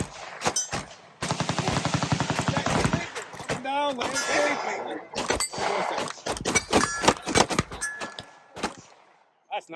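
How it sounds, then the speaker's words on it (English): Matrix Arms MX19 Elite pistol with a 3 lb trigger and aluminum frame being fired, sharp shots in quick bursts and spaced singles, with metallic rings and a few voices in between. "let's take some few shots just to shoot"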